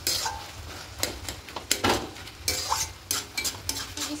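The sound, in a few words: stirring cabbage and potatoes with a spatula in a pan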